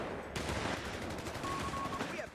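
Rapid rifle fire from G43-armed Jaeger infantry in the World War II strategy game Company of Heroes 3, a dense continuous clatter of overlapping shots with distant battle noise throughout.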